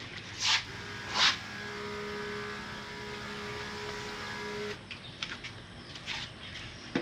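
A Ryobi compact battery-powered garden sprayer runs outdoors with a steady motor hum for about five seconds, then stops, leaving quieter outdoor ambience with a few short clicks.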